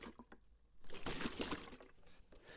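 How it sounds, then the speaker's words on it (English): Water sloshes inside a 1-liter plastic milk bottle as it is shaken: soft splashes at first, then a louder burst of churning liquid before it settles into a quieter swish. "for demonstration purposes, I've got a 1 liter milk bottle that I put some water in."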